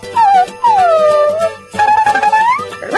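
A remote control robot dog toy gives a series of electronic barks and howl-like yelps, three drawn-out whining cries close and loud, ending in a sharper yip.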